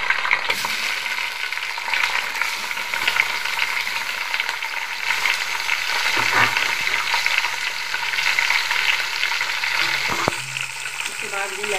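Beef sizzling steadily in a pot with browned onions for nihari, loud continuous frying hiss with occasional clinks and scrapes of stirring.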